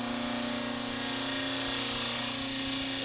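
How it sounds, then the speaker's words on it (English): A woodturning gouge cuts wood on a lathe, its nose tucked in to slice with the full width of the wing, producing a steady, loud, continuous whirring hum with a constant tonal drone. "And then we tuck the nose and gouge in."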